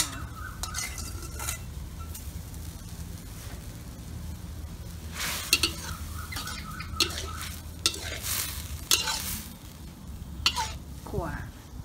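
Freshwater shrimp dry-roasting with herbs in a pan, a steady sizzle with repeated scraping stir strokes and occasional clinks of a utensil against the pan, close and continuous; a voice talks faintly in the background.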